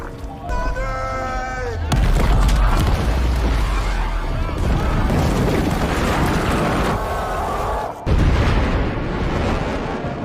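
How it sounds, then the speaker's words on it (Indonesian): A deep rumbling blast from a mountain being blown up erupts and roars on, with a second burst near the end; an animal-like bleat sounds briefly before it starts. "para pekerja sepakat untuk meledakkan gunung tersebut, dan setelah ledakan itu inilah yang terjadi"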